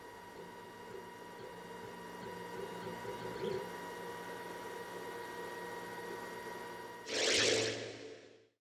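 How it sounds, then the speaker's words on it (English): A 3D printer extruding thermoplastic while printing a part, a steady mechanical whir with tonal motor hums and small clicks, fairly quiet and constant, ending in a brief louder whoosh before it cuts off. "we'll let my 3D printer get on with its task"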